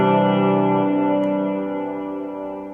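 A sustained ambient electric guitar chord blooms through reverb darkened and scooped to sit in the mid-range, its rich harmonics slowly fading, alone and with no voice over it.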